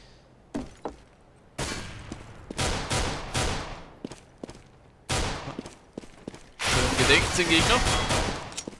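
Rapid gunfire in a Counter-Strike match on the de_cache map, heard as repeated sharp bursts and rattling volleys, some close and loud, while a commentator talks over the action.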